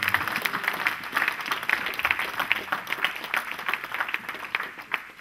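A church congregation claps together in a dense, steady burst of applause that stays loud and even throughout.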